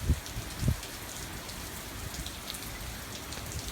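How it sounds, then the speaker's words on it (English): Steady rain falls during Hurricane Matthew in South Mandarin, a dense even hiss of drops with a couple of low thumps at the start and no voices. "Rain has not been super heavy so far."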